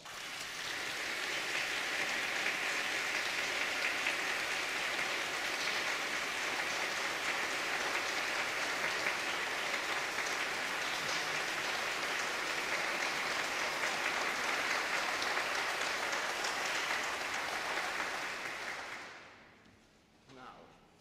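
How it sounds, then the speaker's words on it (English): Sustained, dense applause from a large conference audience in Prague carries at an even level for about eighteen seconds, then fades quickly to quiet. "join me in giving Jerry a round of grateful and hearty applause"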